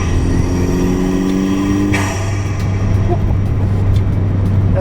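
A 2017 Ford Fiesta ST with an aftermarket intake, its turbocharged engine revving hard under 26 psi of boost, loud and close with a droning exhaust tone and a sharp whoosh midway.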